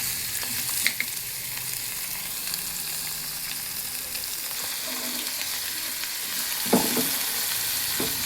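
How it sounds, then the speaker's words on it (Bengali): A potato and chickpea curry cooks in a pan, a constant close sizzle and bubbling with a few brief stirring scrapes and clinks. "আমার রাত্রিরে তরকারি হচ্ছে, রুটি খাওয়া হবে।"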